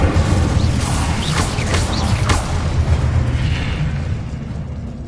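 An Incendio fire spell cast in the Hogwarts Legacy video game bursts with a loud, dense whoosh and crackle, a few sharp flares riding on a sustained roar that slowly fades.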